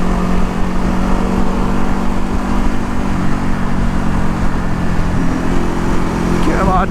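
A Ducati Hypermotard 950 motorcycle engine drones steadily and loudly on a bumpy back road, with constant riding noise and wind throughout, holding an even pitch with a slight rise near the end.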